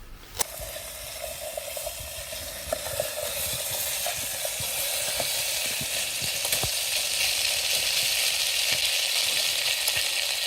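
Corned beef stew with herbs and spices cooks in a pot at a wild camp in the woods, with a steady close sizzle and hiss plus a few light knocks and stirring clicks.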